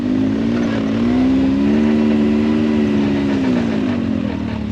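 A Can-Am Maverick X3 side-by-side engine revs hard in low gear, a loud, steady mid-pitched roar that swells and eases slightly while holding high RPM throughout, close and continuous.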